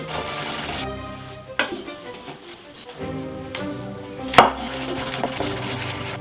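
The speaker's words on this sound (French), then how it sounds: "pas la peine de les couper en deux, on les mince comme ça" A knife slicing cleaned mushrooms on a cutting board for steak Diane sauce, several distinct close taps and thuds spaced irregularly, with a sharp louder knock near the end, set against a steady background hum.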